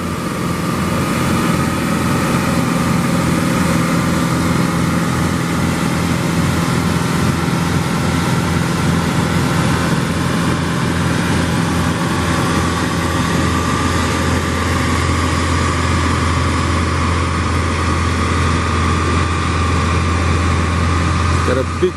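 A tractor engine running at a beach boat launch during a surf launch, a loud, steady low drone that holds throughout with constant wind-like noise.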